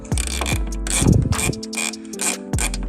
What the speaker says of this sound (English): I don't know if you can see the bolt that I'm loosening up right in there.